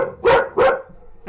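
A dog on the street gives two loud, sharp barks in quick succession, close by, followed by a brief start of a third near the end.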